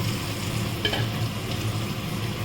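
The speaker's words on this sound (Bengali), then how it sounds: "এই যে আমি কষাচ্ছি, এখনও আরও কিছুক্ষণ কষানো হবে।" Potato pieces fry in a pan for soybean kosha while a spoon stirs them, a steady close sizzle with soft scraping strokes over it.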